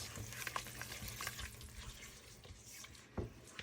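Granulated sugar is stirred into melted chocolate and butter in a pot for pumpkin cream cheese brownies, with soft scraping strokes and light clinks over a faint sizzle, with no voices.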